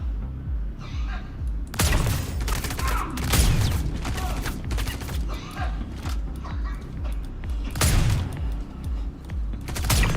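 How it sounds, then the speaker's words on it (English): Sustained suppressing gunfire in the video game Star Citizen, dense overlapping bursts and impacts running nearly the whole time at loud, steady level, with louder surges around the middle and end. "Suppressing fire."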